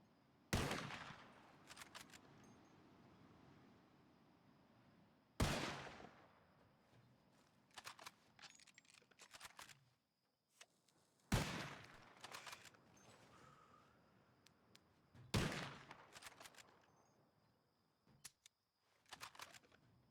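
A revolver in the Red Dead Redemption 2 roleplay game fires four sharp, loud shots spaced a few seconds apart, each followed by clatters and small impact sounds, with quieter clicks in between.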